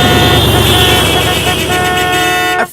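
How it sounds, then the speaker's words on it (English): Car horns blare in a loud, sustained overlapping honk that holds steady for a couple of seconds before cutting off abruptly. "everyone was honking at us"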